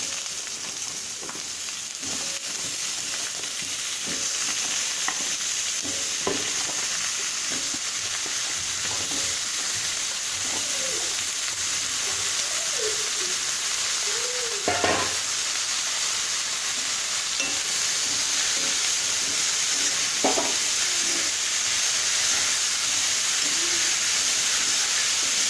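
Pumpkin stir-fries with onions, green chillies and curry leaves in a steady, hissing sizzle. Scattered scrapes and knocks from the stirring spoon sound close by throughout.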